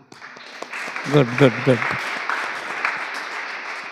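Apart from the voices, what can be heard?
audience clapping loudly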